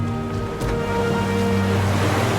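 Rough Atlantic surf at Woodford Beach in Dominica makes a loud, continuous wash of breaking waves, with some wind noise buffeting the microphone.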